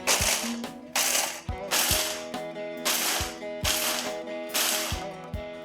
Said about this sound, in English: I'm going to chop them all up into fine pieces